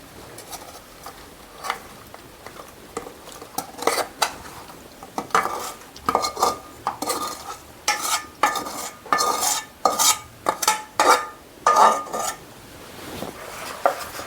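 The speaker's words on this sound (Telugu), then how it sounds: "ఇప్పుడు ఈ చికెన్ ముక్కలు అన్నీ బాగా కలగలుపుకోవాలి ముక్కలకి మసాలాలు అన్నీ కూడా బాగా పట్టేలాగా మనం కలుపుకోవాలి" Chicken pieces being mixed with spices by hand in a metal plate, giving repeated wet squelches and clinks against the plate in an uneven rhythm that grows busier and louder toward the end, close by with no talking.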